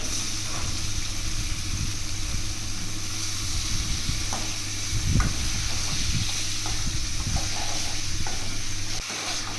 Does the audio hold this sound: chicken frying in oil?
yes